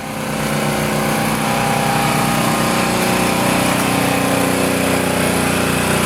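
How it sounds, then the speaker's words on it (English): A gas-powered portable generator runs outdoors with a loud, steady engine drone that builds in the first half second and then holds even and close throughout. "Now this is a gas powered generator, people."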